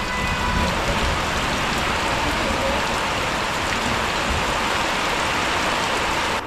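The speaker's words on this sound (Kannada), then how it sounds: "ನೋಡಿ ಮಳೆ ಎಲ್ಲ ನೀರು ನಿಂತ್ಕೋತು ನೋಡಿ." Steady morning rain falls on a village, a dense, continuous hiss of drops on surfaces that stays loud and even throughout, with no voices.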